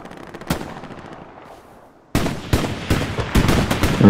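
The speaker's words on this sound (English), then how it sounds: "I'm just going to start taking out shots on the, on that ridge line because they need help" Gunfire in a sniper-and-spotter shooter game, aimed at a ridge line: a single loud crack, a lull with a fading tail, then a dense burst of close rapid shots.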